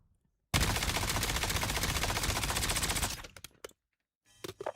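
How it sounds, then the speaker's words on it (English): A video game gun fires a sustained, loud burst of rapid automatic shots with heavy recoil for about three seconds, then stops abruptly, leaving a few scattered clicks and thumps. "This gun has to be the worst gun for recoil ever."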